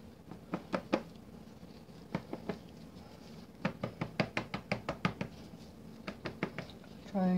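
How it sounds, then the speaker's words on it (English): A soap bar mold filled with salt bar mixture is knocked against a surface to settle out bubbles. The sharp knocks come in quick clustered bursts, close and fairly faint. "Trying to knock some of the bubbles out of that."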